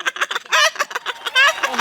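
A voice imitating a chicken clucking on a comedy stage, a quick series of short clucks building into longer, squawking bawks, close and loud with no other talk.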